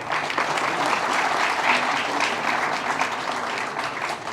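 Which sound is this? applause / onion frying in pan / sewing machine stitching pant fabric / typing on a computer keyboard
applause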